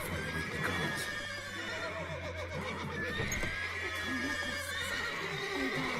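Horses in the video game The Witcher 3: Wild Hunt: repeated whinnying and neighing calls over a steady clip-clop of hooves, amid low ambient game sounds.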